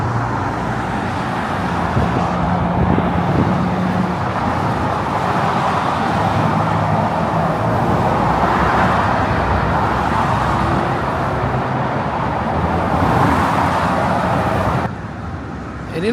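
Steady, dense roar of freeway traffic passing beneath the Flanders Street bridge in Portland, a continuous wash of cars and heavier vehicles with no break.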